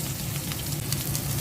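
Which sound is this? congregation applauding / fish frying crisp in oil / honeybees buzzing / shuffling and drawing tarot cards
fish frying crisp in oil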